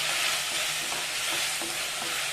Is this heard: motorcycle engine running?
no